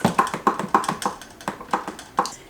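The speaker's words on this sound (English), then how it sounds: "you don't want any sliding or clacking on the axle" A loose roller skate wheel clacks on its axle in a quick run of light, sharp, irregular taps, close by and with no voices.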